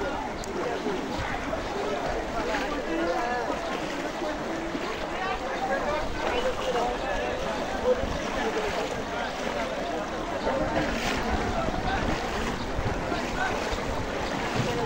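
A boat carrying food relief moves across water toward a village. A steady, loud wash of wind, water and motion runs throughout, with people talking over it.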